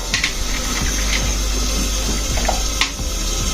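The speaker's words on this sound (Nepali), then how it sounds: "यसलाई फेरि सबै यो पानी निकालिदिने, तार्ने" Water from half-boiled potatoes being poured off through a strainer, a continuous close splashing gush with small clinks of the pot and strainer.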